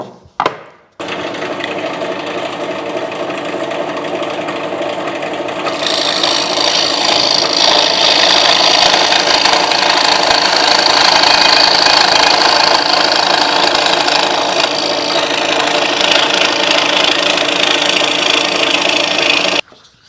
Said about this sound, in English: now I'm going to cut this on the jigsaw